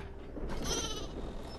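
Sheep bleat in the video game Flockers, a wavering animal call rising over a steady game background and carrying on through most of the moment, fairly close and clear with no talking.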